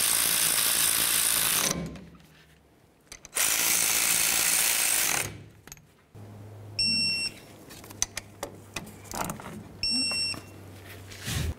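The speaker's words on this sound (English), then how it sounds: "Take both of your mounting bolts, start them in there, snug them up, then torque them to 27 foot-pounds." A ratchet tightens the brake caliper mounting bolts on a 1998-2011 Ford Ranger in two loud bursts of rapid clicking, followed by quieter mechanical ticks and a couple of short electronic beeps.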